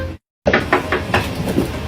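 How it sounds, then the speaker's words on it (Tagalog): Several knocks on a house door sound in a quick series, about five firm raps following a brief silence. "O yun ay kumakatok, pagbuksan mo."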